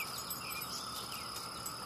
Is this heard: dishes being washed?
no